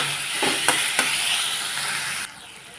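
Tomatoes cook in a pan for pasta, giving a steady close sizzle with a couple of sharp stirring knocks before the sizzling abruptly drops away.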